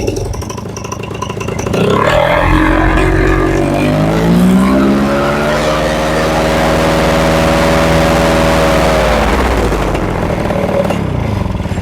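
A pull-start gasoline engine running on old gas roars loudly and steadily up close, its pitch climbing as it revs, holding high for several seconds, then dropping back.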